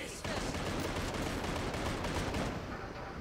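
Friendly gunfire in GTA 5, a continuous rattle of rapid shots filling the short stretch, loud and close, with faint speech mixed in.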